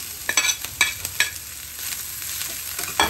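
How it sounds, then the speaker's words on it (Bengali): Chicken meat going into a pan of half-fried onions for a healthy chicken salad sandwich filling, with scraping stirs and clatter over a low, steady sizzle. "পেঁয়াজটা আমার আধা ভাজা হয়ে গিয়েছে। এখন আমি এর সাথে মাংসটুকু দিয়ে দিব।"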